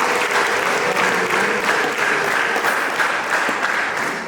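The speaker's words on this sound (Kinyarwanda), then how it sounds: "Yego dukomere Imana yacu amashyi cyane." A church congregation applauds a choir with vigorous, continuous clapping from many hands, dense and even throughout, slightly easing at the very end, with faint voices mixed in.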